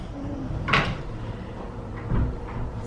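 A sliding barn door with a hidden Mickey design in a Disney Coronado Springs resort room rolls on its track, giving two soft scraping thuds close by with steady room noise underneath.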